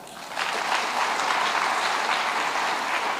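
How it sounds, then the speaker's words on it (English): Steady, dense applause from an audience at a Girl Guides centenary celebration and World Thinking Day event, swelling slightly after the start and holding loud and even throughout. "Can we give them a clap?"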